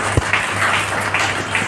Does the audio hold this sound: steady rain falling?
no